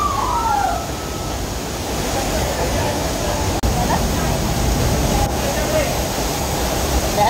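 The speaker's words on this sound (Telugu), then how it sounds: "వాటర్ ఫాల్ కిందేమో విపరీతంగా ఎక్కువ అవుతుంది" The Thoseghar waterfall near Mahabaleshwar, Maharashtra, roars as a loud, dense, unbroken rush of falling water, with a brief whistle-like tone early on.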